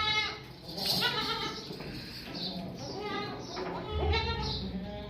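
Young goat kids bleat repeatedly on a farm while waiting for feeder-bottle milk, several overlapping quavering cries near and far, with a voice talking at times beneath them.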